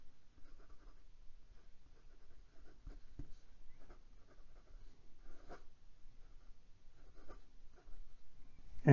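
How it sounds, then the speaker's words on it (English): Fountain pen scratching across paper in reverse and quick strokes, a fine to medium Japanese nib leaving a thin, dry, scratchy line; faint, intermittent nib rasps, close up, with no voice. "and some reverse writing."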